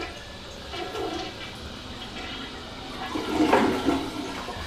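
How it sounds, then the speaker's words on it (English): A toilet flushes after its wax ring has been replaced: a rushing swirl of water that builds to a loud gurgling surge near the end, heard close up with no talking. "I'm going to do a few flushes, see if you get any water coming out."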